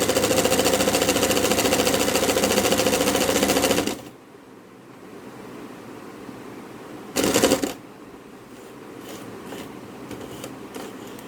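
A sewing machine stitches a plain zigzag edge along a dupatta. Its dense, steady whir runs loud for about four seconds and stops. A second short burst of stitching follows a few seconds later against quiet room sound.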